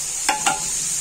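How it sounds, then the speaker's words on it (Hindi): Masala of tomato, green chillies, red chilli, turmeric and salt fries in ghee with a steady bright sizzle, broken by two quick stirring scrapes near the start; no voices. "मसाले को अच्छे से भून लेंगे।"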